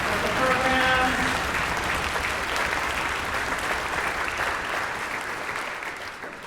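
A theater audience applauds board members and volunteers after intermission, sustained crowd clapping with a few shouts early on, gradually thinning toward the end.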